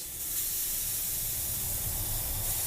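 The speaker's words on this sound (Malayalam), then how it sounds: "ഇതിൻ്റെ ഈ ഹോളിൽ നിന്നും പെട്രോൾ ചീറ്റി തെറിക്കും വളരെ ശക്തിയായിട്ട്." Petrol sprays forcefully from a hole in a vehicle's fuel hose, a steady, loud, broadband hiss that holds unbroken for nearly three seconds with no talking.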